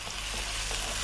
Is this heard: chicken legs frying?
yes